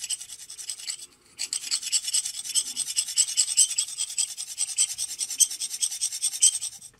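Dovo Sunday Shaver straight razor steel is ground back and forth on a flat hone with Ballistol oil, a continuous close scraping rasp with a rhythmic stroke texture, briefly pausing near the start.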